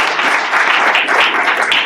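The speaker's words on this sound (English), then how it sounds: "Natalie Mosier, let's give her a round of applause." Dense applause from a town hall audience welcoming a guest, loud and close, with many hands clapping together in a continuous wash.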